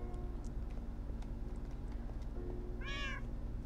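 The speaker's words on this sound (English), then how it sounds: "Synchronized meowing." A single short meow rises out of a steady low background hum, close and clear near the end, with a few faint clicks scattered before it.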